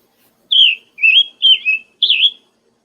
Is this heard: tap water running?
no